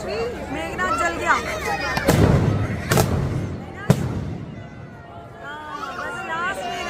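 Firecrackers burst inside a burning Dussehra effigy during an outdoor festival, with three sharp bangs ringing out over a crowd's chatter and nearby talking.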